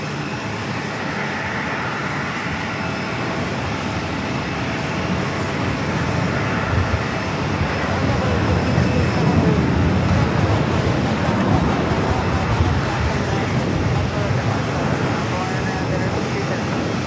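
A Korean Air A380 Super jumbo airliner rolling along runway 4 Left at JFK, a broad, steady jet roar that swells slightly midway and stays loud throughout.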